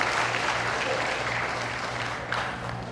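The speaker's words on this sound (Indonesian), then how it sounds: "Tepuk tangan buat Bang Khairul." An audience at a formal Malay customary council gathering in Riau gives steady, moderately distant applause, a continuous wash of clapping with faint crowd murmur underneath.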